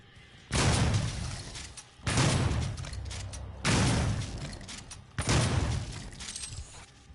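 Four heavy blasts in Doom (2016), grenade explosions and rapid gunfire, each a sudden loud crack followed by a dense rumbling burst lasting over a second, spaced roughly every one and a half seconds, close and without talk.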